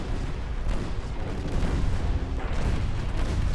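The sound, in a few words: torpedoes hitting ships in a naval video game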